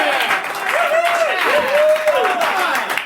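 An audience claps along on a TV show studio set, a steady wash of applause under music and a voice.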